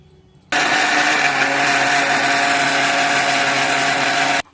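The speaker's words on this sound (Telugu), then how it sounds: "మిక్సీలో నూగులు వేసుకొని జీలకర్ర ఎల్లిపాయలు కారం వేసి మిక్సీ పట్టుకోవాలి" A kitchen mixie grinds sesame seeds, cumin, garlic and chilli powder, switching on abruptly with a loud, steady motor whine and rattling churn that runs for about four seconds before cutting off.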